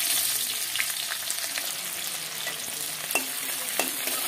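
Onions frying in hot oil for a fish curry, with a dense, steady sizzle close up and a few soft stirring scrapes breaking through.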